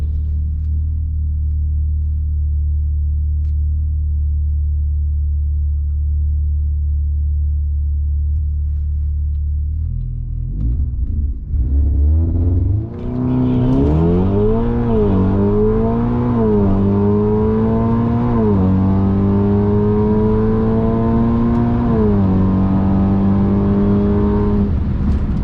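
A big-turbo Audi S3 drag races a Hellcat down a quarter-mile strip: a steady low idle rumble gives way to a loud launch, then rising engine pitch climbing through several gear shifts, close and dominant with no talking.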